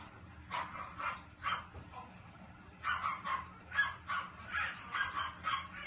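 A pet dog barks and whimpers in a home in a string of short, high, yelping cries that come in uneven clusters, fairly close and clear over a low background hum.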